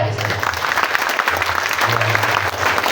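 Loud, dense applause from an audience at an Islamic boarding school graduation ceremony, continuous clapping with a low hum running beneath it.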